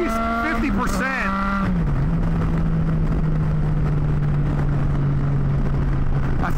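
A Triumph Tiger 660 Sport motorcycle engine runs at low throttle with a steady, droning hum. The pitch dips slightly, then holds under constant wind rush.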